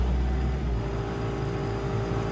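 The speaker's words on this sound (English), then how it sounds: "Turn your throttle up some more." A skid steer engine held at raised throttle, a loud steady near drone with a strong low rumble and faint whine, running alone without talk.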